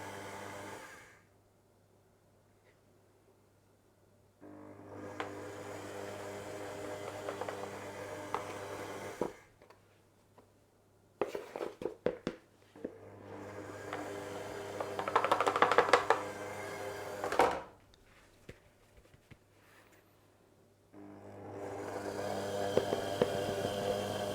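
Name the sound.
electric mixer mixing Easter biscuit dough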